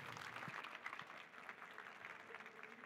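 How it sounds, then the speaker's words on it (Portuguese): An audience at a university entrepreneurship talk applauds in a steady patter of many clapping hands that carries on evenly, faint and somewhat distant. "Palmas, hein?"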